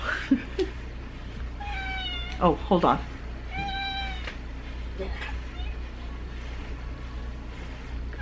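A cat meows indoors several times, including drawn-out and wavering calls, over a steady low hum, with a person speaking briefly near the start.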